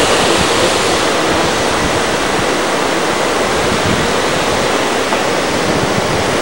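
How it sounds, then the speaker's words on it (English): A waterfall in an Australian jungle roars as a dense, steady rush of falling water, loud and close, filling the scene without pause or voices. "Here's the falls."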